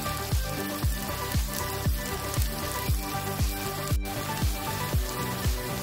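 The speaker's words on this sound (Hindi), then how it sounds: "तो 2 से 3 मिनट हम इसे धीमी आंच पे पकाएंगे।" Radish and mixed vegetables fry on low heat in a pan, giving a steady soft sizzle with regular rhythmic stirring scrapes about twice a second, close and alone.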